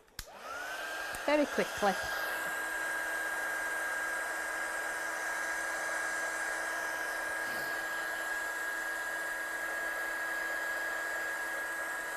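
A hair dryer blows on a watercolour card of normal cardstock, starting with a few clicks and then running as a steady, loud whine and rush of air, close and continuous; a voice speaks briefly at the start.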